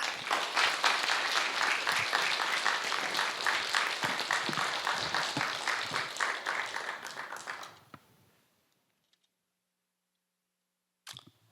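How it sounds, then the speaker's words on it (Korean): A church congregation applauds during a Wednesday family worship service, dense sustained clapping filling the room for about eight seconds before fading to near silence, with one brief sound at the end. "우리 성사님 나오실 때 격려 박수로 맞겠습니다"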